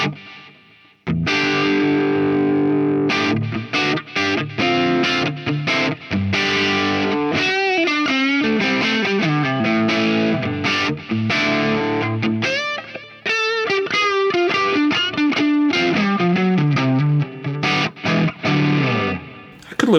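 Loud distorted electric guitar playing a continuous riff with sustained, smeared reverb tails from reverb placed in the amp's effects loop, dense and busy throughout, with no talking.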